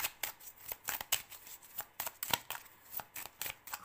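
Tarot cards shuffled and drawn by hand, a quick run of soft papery riffles and flicks close to the listener, with no talking.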